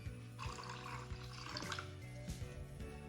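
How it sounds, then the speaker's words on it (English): Hot water poured into a cup for butterfly pea tea, a soft trickling splash under quiet background music, faint and close. "we're going to pour 1 cup of hot water"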